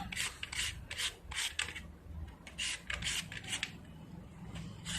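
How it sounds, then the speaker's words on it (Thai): Peeled mango being shredded into strands on a papaya shredder, heard as a run of about nine quick rasping strokes in uneven bursts, close and fairly loud, with no voices. "เราก็จะนำที่ขูดมะละกอค่ะ มาขูดเป็นเส้นแบบนี้นะคะ"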